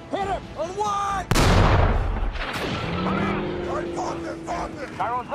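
A tank cannon fires in the War Thunder video game, a single sudden loud blast followed by a long rumbling decay, with voices shouting before and after amid engine and battle noise.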